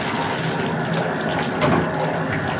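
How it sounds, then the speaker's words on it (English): Hot water runs from a bathtub tap into the tub, a steady, close rushing and splashing that fills the whole stretch with no talking over it. "I'm filling the tub with hot water."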